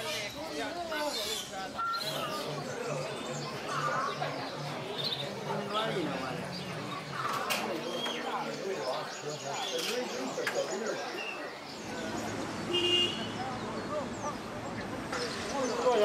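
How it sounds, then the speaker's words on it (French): Small caged birds in Beijing chirp and coo in a steady dense chorus throughout, close by, with no talking. "Des oiseaux attachants attachés"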